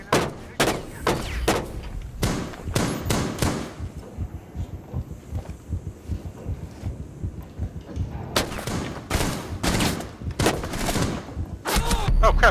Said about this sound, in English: I'm getting shot from the far side.